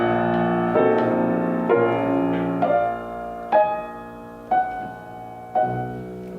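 A Beethoven slow movement, played on piano at Czerny's metronome marking: sustained chords struck one after another at an unhurried, even pace, each ringing out and fading before the next.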